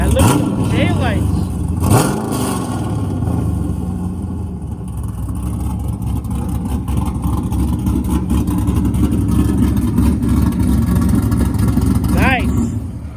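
A 1967 Chevrolet Camaro RS SS resto mod engine idles with a rough, loud rumble, with sharp revs near the start and again toward the end, while people talk over it close by.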